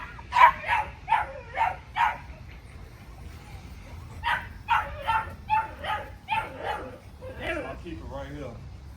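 A young pit bull puppy from a breeding kennel gives a series of short, bright barks and yips in bursts, fairly close, with a quiet pause in the middle before another run of yaps.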